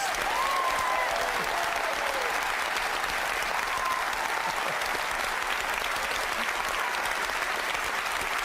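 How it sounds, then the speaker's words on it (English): A live television studio audience gives itself sustained, even applause, dense clapping throughout with a faint whistle or cheer early on and no talk over it. "It's our fantastic studio audience. Give yourself a round of applause."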